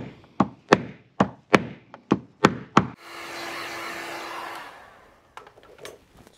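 Tapping knocks on a car front fender during paintless dent repair, a quick series of sharp wooden thunks, then a heat gun blows with a steady hum for about two seconds before a few softer taps follow.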